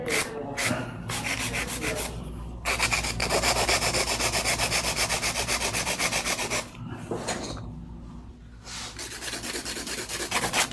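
A 100 grit hand file rasping back and forth over an acrylic nail in rapid, steady strokes, close and fairly loud, with brief pauses between bursts of filing.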